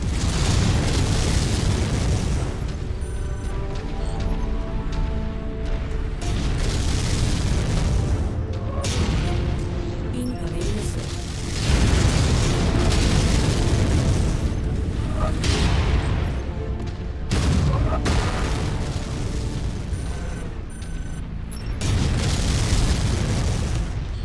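Loud, continuous battle sounds from the Mechwarrior 5 video game: heavy explosions and booming weapons fire, with repeated bursts and blasts over dense rumbling, plus occasional radio-style voice chatter beneath.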